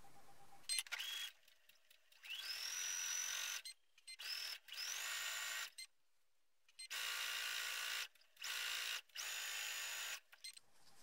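A sewing machine stitching folded fabric bag handles 5 mm from the edge, running in several loud short bursts separated by brief silences, close up.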